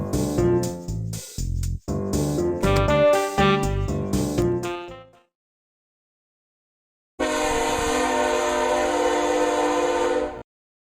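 Synthetic train sounds from the video game Rail x Rail 2, with a layered horn-like tone, cutting out into silence for a couple of seconds, then a steady sustained hum with hiss.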